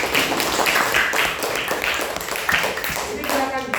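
A small classroom group claps for a student's correct answer about a traditional dance, a brief, close burst of uneven hand claps with a few separate smacks, voices mixed in.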